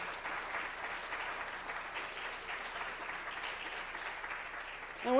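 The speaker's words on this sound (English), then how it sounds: "all of you deserve a round of applause for being here" A lecture audience at a university physics and astronomy talk gives a round of applause, a sustained, even roar of many hands clapping at moderate distance that runs unbroken for about five seconds.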